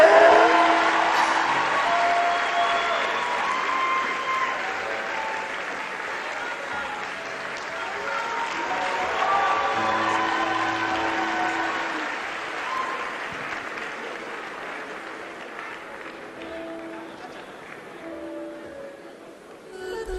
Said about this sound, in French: Merci d'applaudir encore pour ce numéro d'humour